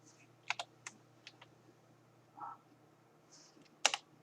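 Typing on a computer keyboard during a Black Ops 3 map explanation: scattered sharp key clicks in small clusters, close but quiet, with a brief softer sound in between and no talk.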